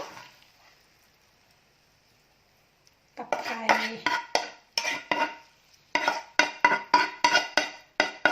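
Metal utensils scrape and clink against dishes as food is scooped over rice in a rural home kitchen, a quiet start giving way to a rapid run of bright, close clatters.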